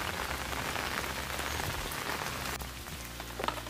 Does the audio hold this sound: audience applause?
no